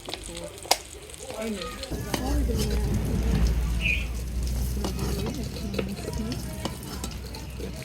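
Crab frying in a pan over an outdoor cooking fire, a steady close sizzle with stirring scrapes and occasional clinks, while a voice talks now and then over it.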